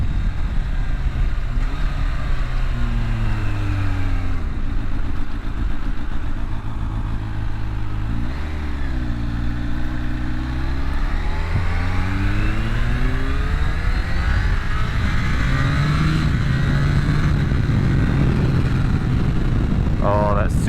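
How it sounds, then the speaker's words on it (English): A 2021 Kawasaki Ninja H2 SX SE+ supercharged sport-touring motorcycle with a flashed ECU, riding at a loud, steady engine roar that rises and falls through shifts, then a fluttering release as the throttle closes near the end. "that supercharger flutter as we come off the throttle."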